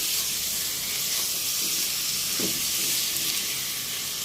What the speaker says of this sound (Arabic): كده اللحمه بتاعتنا لونها اتغير من كل الجوانب، اتشوحت معانا تشويحه بسيطه